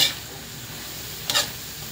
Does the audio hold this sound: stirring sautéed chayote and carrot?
yes